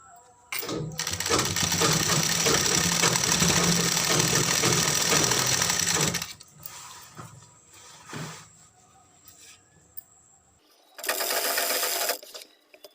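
A sewing machine stitching the seams of a four-panel petticoat, running in a steady, loud mechanical whir for about six seconds, then short quieter taps and a second burst of stitching near the end.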